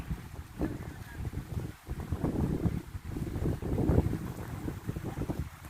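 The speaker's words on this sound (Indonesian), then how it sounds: "Anginnya kencang juga ini." Strong wind on an exposed rocky mountain summit buffets the microphone in loud, gusting rushes that rise and fall over several seconds, with no talking.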